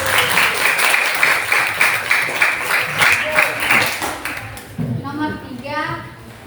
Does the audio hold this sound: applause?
yes